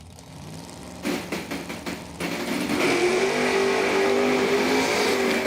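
A modified, custom-built Vega drag car at a dragway goes from a rough idle into sputtering revs, then launches into a loud, sustained, rising engine roar.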